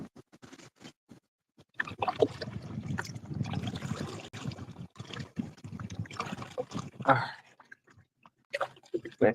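A kayak paddle dips into lake water in irregular splashing strokes, with wind buffeting the microphone and a voice murmuring nearby.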